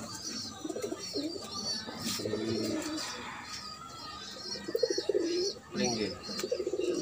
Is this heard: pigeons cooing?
yes